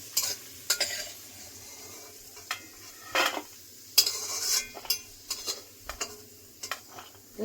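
Cashews and raisins fry in ghee with a steady low sizzle, broken by repeated scrapes and clinks of a spoon stirring against the pan, close and fairly quiet.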